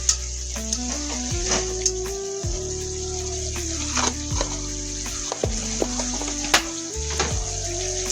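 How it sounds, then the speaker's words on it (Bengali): Spice masala sizzles steadily in a pan with butter, a constant close frying hiss broken by scraping stirs and small clinks of the utensil against the pan, with no talking. "এখন এটাকে একটু কষিয়ে নিব 5 মিনিটের মতন।"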